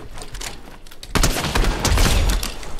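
Gunfire in the Fortnite Battle Royale video game, a dense burst of repeated shots that starts about a second in and keeps rattling loudly to the end, over a low rumble.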